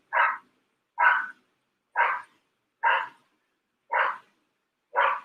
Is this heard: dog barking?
yes